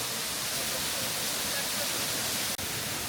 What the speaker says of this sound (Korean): 야 여기 폭포가 여긴 좀 느낌 있다